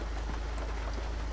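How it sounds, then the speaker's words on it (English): Steady rain in the Roblox game Twisted during storm chasing in a 1995 Dodge Ram 2500, a dense continuous hiss of falling drops with a deep low rumble underneath, no talking. "It's currently raining"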